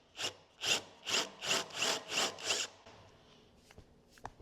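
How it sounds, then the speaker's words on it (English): A carbide countersink bit cutting cast iron, seven rhythmic grinding strokes about half a second apart, close and fairly quiet, then fading into a few faint scattered clicks. "So we'll countersink this first."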